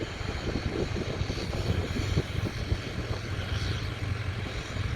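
Wind buffets the microphone outdoors in a hay field, a rough, steady rumble with small gusts throughout and no voices.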